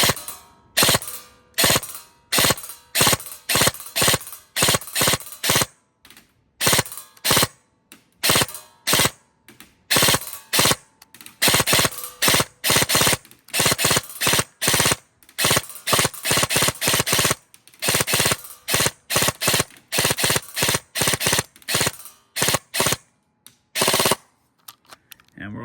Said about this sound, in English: Now we'll give it some burst fire.